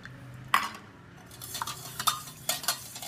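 A spoon stirs kokum juice sweetened with dissolved sugar, knocking and clinking against the vessel several times over a quiet background.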